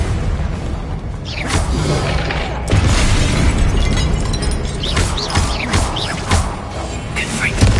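Spell blasts from a Harry Potter game on PS5, the Confringo curse hitting statues, come as loud booming bursts and whooshes with debris crashing over constant game noise, and a voice speaks over the action.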